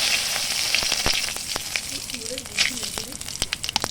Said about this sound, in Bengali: কড়াইতে তেল দিয়েছি, তেলটা গরম হয়ে গেছে, শুকনো লঙ্কা ফোড়ন দিয়েছি, এর সঙ্গে এবার দিচ্ছি জিরে আর তেজপাতা ফোড়ন